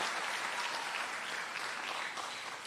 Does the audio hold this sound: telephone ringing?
no